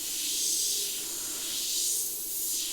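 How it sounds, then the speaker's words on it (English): A Sparmax SP.35 airbrush spraying paint gives off a steady, breathy hiss of air, swelling and easing slightly, with a short louder puff at the end. "just spraying a little bit further away to see how it goes with dusting"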